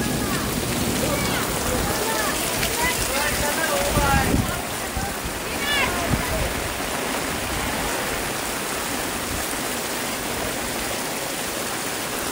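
Floodwater waves rush through Morigaon village near Vasai-Virar in a loud, continuous roar of churning water that surges briefly, with voices over it.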